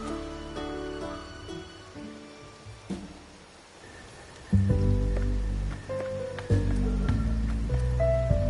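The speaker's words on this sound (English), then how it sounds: "Rain's back." Rain falling in a video game: a soft, continuous patter over quiet ambience, with tonal music-like accents entering partway through and rising in level.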